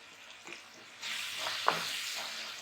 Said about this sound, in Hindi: इसको अच्छी तरह भूनेंगे